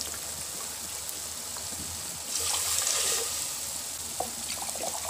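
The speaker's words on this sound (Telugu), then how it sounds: "2½ వాటర్ పోసుకోవాలండి." Water is poured into a pot of soaked basmati rice for pudina rice, a close, steady trickle that swells into a fuller gush midway and runs on to the end.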